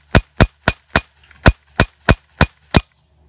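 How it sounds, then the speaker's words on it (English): Crosman XCP air cartridge pistol emptied rapid-fire into a cinder block outdoors: nine sharp, evenly spaced cracking shots in about three seconds, loud and close, with no talking. "We have a full mag with the XCP pistol. And we mag dumping."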